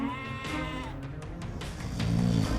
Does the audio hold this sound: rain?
no